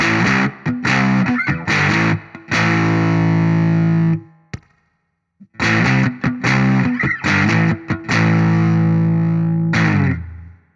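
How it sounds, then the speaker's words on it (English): Electric guitar played through a hand-built TEFI Vintage Labs Gegé germanium fuzz pedal, thick fuzzy distortion, choppy strummed chords in bursts, a pause of silence, then more driving fuzzed riffing ringing out. "see what sort of sounds I can get out of this rather gorgeous looking fuzz pedal"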